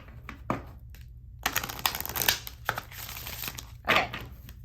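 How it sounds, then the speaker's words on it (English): A deck of tarot cards is shuffled near and soft, giving several brisk riffling bursts of papery rustling with short pauses between them and no voices. "Let me give these one more good shuffle."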